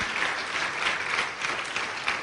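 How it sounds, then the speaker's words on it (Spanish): Church congregation applauding at a Spanish-language worship service, a steady, dense wash of many hands clapping that holds evenly for the whole stretch. "Dale un fuerte aplauso al Señor."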